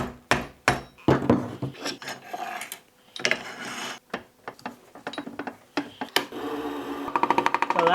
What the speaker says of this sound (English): that torpedo shape means we're going to make it on the lathe.